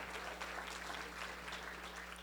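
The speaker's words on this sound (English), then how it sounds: "So give yourselves a big round of applause." Faint applause from attendees at the Marin Promise Partnership Summit 2019, a thin patter of clapping from a modest group over a steady low electrical hum.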